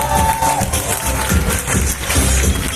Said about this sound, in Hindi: मजा नहीं आ रहा, एक बार खड़े होकर जोरदार तालियां अकरम सर के लिए।